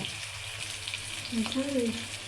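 Onion and garlic fry in hot oil for a mustard greens dish, giving a steady, close sizzle that swells briefly midway, with no talking.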